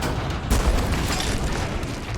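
A cannon in Resident Evil 4 Remake fires a single heavy boom that opens loud and is followed by a rumbling, noisy wash. It is close and fills the short clip.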